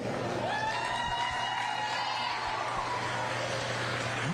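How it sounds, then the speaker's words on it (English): An audience gives steady applause at a county youth fair livestock show, honoring veteran exhibitors. The clapping is a continuous, moderately faint patter over a sustained tone and low background hum. "Applause for all these old timer showmen"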